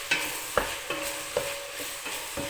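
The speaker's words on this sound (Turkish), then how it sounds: "Kıymamızı ocağa aldık ve suyunu bırakana kadar kıymamızı kavurmaya başlıyoruz." Minced meat stir-fried in a pan for stuffed kibbeh, with a rhythmic series of scraping stirs roughly every half second over a soft sizzle, close and moderately loud.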